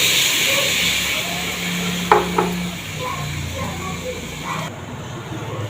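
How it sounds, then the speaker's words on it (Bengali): Water stirred into a hot cooking pot raises a steady hissing sizzle, broken by a couple of sharp utensil clinks against the pot midway. The sound stays close and fairly loud. "এবার আমি এতে একটু জল মিশিয়ে দেবো"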